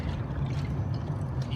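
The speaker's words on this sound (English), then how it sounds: "basically just fill this guy up with water" Water pouring steadily from a container into a roll-a-meter air-content test vessel on a concrete job, a continuous close splashing gush for the whole moment.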